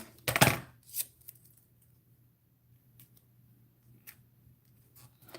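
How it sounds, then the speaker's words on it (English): Scissors snip a piece of foam tape for a handmade light-up card: one sharp close cut, followed by a softer second snip and then scattered faint ticks and handling noises in a quiet room. "let's cut another piece for the bottom"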